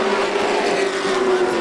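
Pro trucks racing on a dirt track, a loud continuous engine roar with a steady tone, brief and close, with no other sounds standing out.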